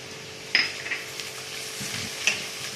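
Minced meat frying in a pan seasoned with salt, black pepper and turmeric, a soft close sizzle broken by a few sharp scrapes and stirs.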